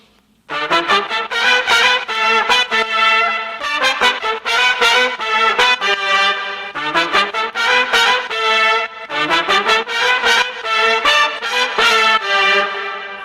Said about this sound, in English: I put all of these horns together, and they sound like this.